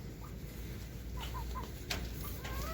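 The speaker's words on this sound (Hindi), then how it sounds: "सुबह सुबह हम अपने मुर्गियों को बाहर निकाल रहे हैं।" Chickens cluck in short, scattered calls as they are let out in the morning, soft and somewhat distant over a steady low background hum.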